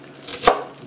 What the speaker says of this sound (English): I like to chop mine up kind of fine.